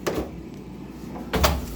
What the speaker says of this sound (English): This one goes in the refrigerator door, just like that.